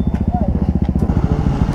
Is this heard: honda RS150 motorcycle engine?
yes